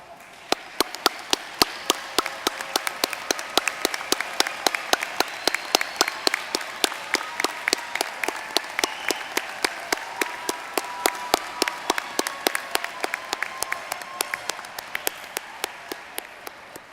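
An audience at a 2019 university graduation ceremony applauds steadily, with many close, sharp rhythmic claps in a fairly even beat over quieter crowd clapping, lasting the whole stretch.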